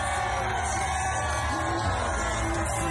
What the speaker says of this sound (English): Look at the roaring crowd.